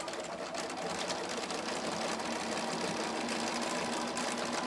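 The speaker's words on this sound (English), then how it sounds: "I'm just going to do that blanket stitch along here." A sewing machine runs a blanket stitch along fabric edges, a loud, steady, continuous whirring hum with no pauses and no voices.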